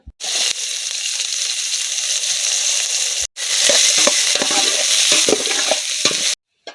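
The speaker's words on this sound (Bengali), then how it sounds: "এবার ওই ঘিয়ের মধ্যেই কিছুটা কুচিয়ে রাখা পেঁয়াজ ভেজে নেব" Chopped onions frying in ghee sizzle loudly and steadily up close, with spatula scrapes and crackles, broken by a brief silent gap midway and a cutoff just before the end.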